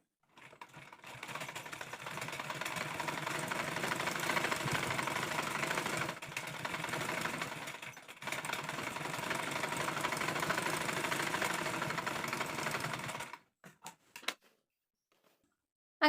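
A sewing machine stitches a sleeve onto an anarkali kurti, running in a fast, steady whir for long stretches with brief pauses, then stopping into a few short bursts.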